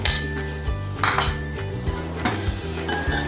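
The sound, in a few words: stirring cardamom sugar syrup in a pan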